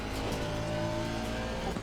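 In a racing simulator, a race car engine drones steadily at high revs, a faint, continuous tone with possible tyre squeal layered in and no talking.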